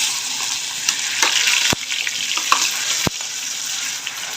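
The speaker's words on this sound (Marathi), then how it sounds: "तेल गरम झालेलं आहे आपण वाटण टाकून घेऊया" Ground masala paste hits hot oil in a heated kadhai, giving a loud, close, steady hissing sizzle with two sharp clacks of a spoon or pan about a second apart.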